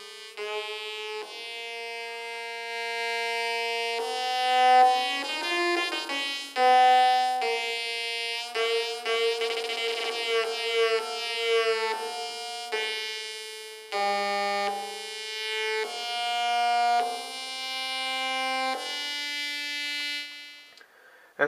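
Atari punk console synth through a spring reverb producing buzzy square-wave tones that step and sweep in pitch, with a metallic reverb tail smearing the notes, steady and fairly loud for about twenty seconds.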